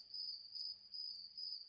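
A Dreamegg portable white noise machine plays a cicada sound: a thin, continuous high buzzing with faint regular pulses, quiet and alone.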